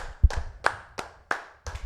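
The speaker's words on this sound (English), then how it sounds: "Get loud for Des Mulrooney," Scattered, distinct handclaps from a small audience cheering on comedian Des Mulrooney, a handful of sharp, uneven claps with short gaps between them rather than full applause.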